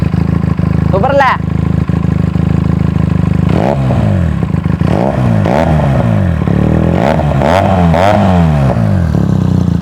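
Benelli TNT300 motorcycle engine revving close up, rising and falling in repeated throttle blips over a steady idle, loud and continuous; a person talks over it.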